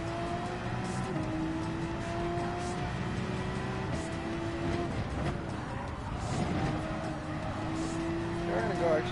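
A race car in Gran Turismo 7 accelerating, its engine droning and rising in pitch through gear changes, steady and fairly loud, with a person talking over it.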